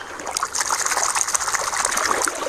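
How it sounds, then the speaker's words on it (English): A toy walrus is set back into a pool of water, making a steady, continuous trickling and splashing throughout, close by and moderately loud, with no talk. "Let's put the walrus back in the water."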